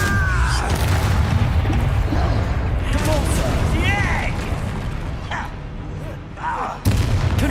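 Confringo blasting spells in a Harry Potter video game burst as booming explosions amid ongoing combat, loud and near, the rumble fading briefly before another blast, with a person talking throughout.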